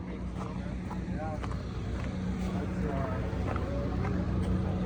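A snowplow truck fitted with a CAT snow wing blade idles with a blown seal, giving a steady low droning hum with faint harmonic whine, mixed with wind buffeting the microphone.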